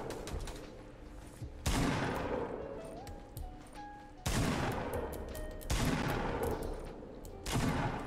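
Gunfire in the Fortnite battle royale video game, bursts of rapid shots repeating in several sharp volleys, moderately loud with no talk over them.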